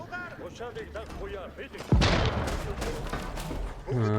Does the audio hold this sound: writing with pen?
no